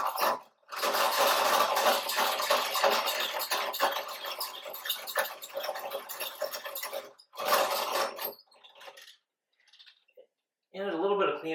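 A watch-cleaning machine spins its parts basket inside an empty jar to fling off excess cleaner, giving a steady whirring rasp with clicks that runs loud for several seconds, pauses, returns briefly and then trails off.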